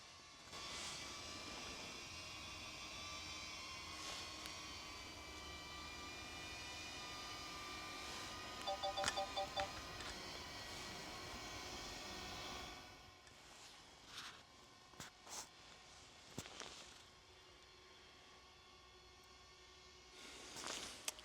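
DJI Flip and DJI Neo drones hovering in a garden at around 70 metres, a steady faint whine with a droning hum, holding level before thinning into fainter, uneven noise with brief louder bursts.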